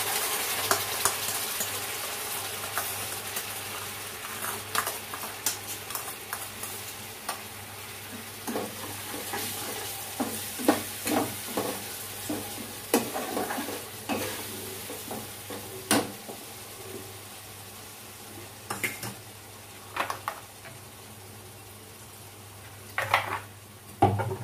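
Masala and yogurt sizzle and fry in a pan for a kathla fish curry, with repeated spoon scrapes and clinks against the pot over a steady close frying hiss.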